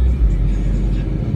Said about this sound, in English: Oh no, the car is leaving.